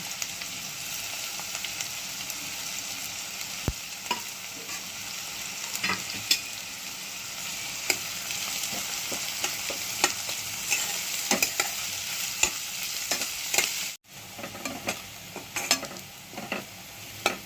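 Onion roasts in a pan for a wet cashew curry and is stirred constantly, giving a continuous close sizzle broken by frequent spatula scrapes and taps, with a brief lull near the end.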